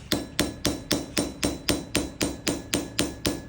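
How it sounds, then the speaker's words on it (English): An old Disston sawsmithing hammer taps a 22-inch panel saw plate on an anvil in a steady, even rhythm of about a dozen sharp, ringing metallic strikes, close and clear with no talking. "I'm going to hit taps on the anvil about 1 beat per tooth"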